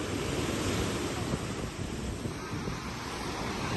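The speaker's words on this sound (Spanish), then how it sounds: "está el agua movida con una brisa bastante importante" Strong sea waves and breeze at a beach in Tulum give a dense, continuous roar of choppy surf mixed with wind buffeting the microphone, steady and loud throughout without speech.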